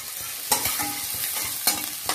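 Onions fry in a pan for chickpea chilli while a spoon stirs them, crisp sizzling under a few sharp scraping and tapping strokes against the pan, close and clear.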